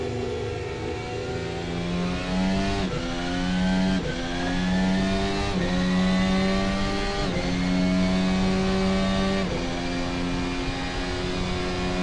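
Ferrari race car engine in a Hungary racing video game, a loud sustained whine rising and dropping through repeated gear shifts and revs, close and steady with no talk.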